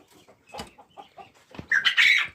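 Chickens, including a rooster, cluck and murmur up close in a coop, with a louder squawk near the end.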